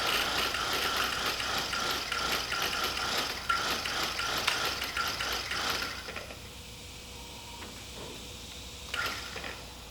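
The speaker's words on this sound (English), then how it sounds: "turning on the radiator fan at random" Radiator fan on a 1986 Kawasaki GPZ1000RX motorcycle whirs with a steady mechanical clatter for about six seconds, then cuts out, leaving faint ticks and a quiet hum.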